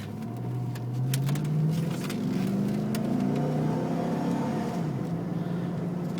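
A 2004 Hummer H2 truck drives and accelerates, its engine drone rising steadily in pitch through gear changes, heard from inside the cabin with a steady road hum and no talk.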